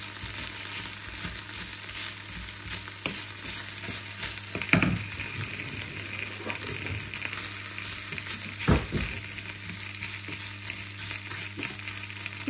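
Rice porridge simmers in a pot while being stirred, a steady bubbling hiss with soft scraping and a couple of louder knocks of the spoon against the pot.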